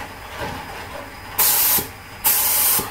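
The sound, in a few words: modified spray gun test-spraying paint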